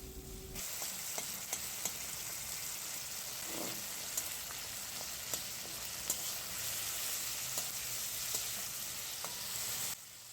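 Tomatoes fry in a pan for parshe kasundi with a continuous close sizzle, broken by small scraping clicks of stirring throughout.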